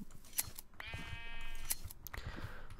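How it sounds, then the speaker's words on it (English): Sheep bleating in the Minecraft video game, a couple of wavering game bleats heard one after another at moderate loudness with faint background game ambience. "Man, look at the sheep."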